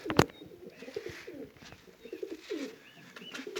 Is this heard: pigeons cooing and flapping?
yes